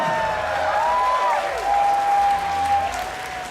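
A crowd applauds steadily, with scattered whistles and cheers rising above the clapping.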